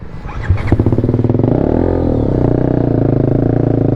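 A motorcycle being push-started in gear catches with a few clattering bursts, then settles into a loud, close, steady engine idle that throbs rhythmically to the end.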